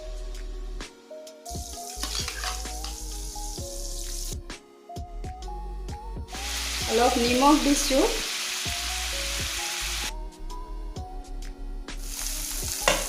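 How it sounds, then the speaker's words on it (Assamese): Paneer fries in a spoonful of butter in a hot wok, a steady sizzle with clinks and scraping of a spatula, broken by musical notes and someone speaking briefly. "ইয়াতে পনীৰখিনি ভাজি ল'ম মই"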